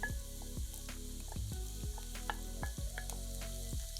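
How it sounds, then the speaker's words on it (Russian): Chopped onion hits hot vegetable oil in a frying pan and sizzles steadily, with repeated thuds and scrapes of stirring against the pan, close and loud, no talk. "В разогретую сковороду с растительным маслом кладем нарезанный лук."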